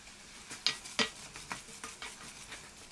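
Spoon stirring salt, thyme, red pepper flakes and black pepper into a homemade bolognese sauce in a pot, giving soft scraping clicks and gentle wet swishes at an irregular pace, close and fairly quiet, with no talk.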